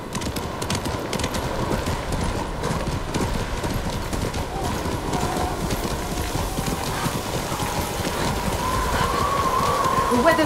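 Horse hooves clip-clop steadily on the ground in the snowy Ghost of Tsushima video game, a continuous rhythmic trot with a brief whinny near the end, alongside light ambient noise.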